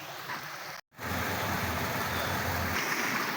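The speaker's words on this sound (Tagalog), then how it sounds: "Medyo mababaw yung tubig pero stable naman yung malakas na daloy ng tubig" A shallow mountain stream flows steadily with a strong current, a close, continuous watery rush and gurgle, broken briefly by a short dropout near the start.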